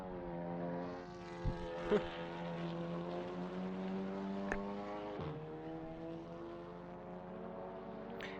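Video game race car engines on the VIR North circuit whine steadily at varying pitch as they pass, with a few brief clicks and thumps, fairly loud and continuous.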